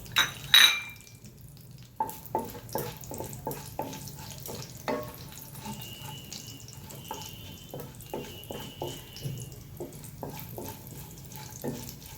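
Whole spices (cumin, green and black cardamom, black pepper, cinnamon and bay leaf) hit hot oil for a chicken dish. A loud clatter comes first, then scattered crisp pops and crackles with soft stirring. No one speaks.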